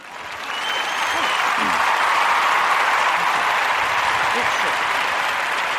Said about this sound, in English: let's get some applause here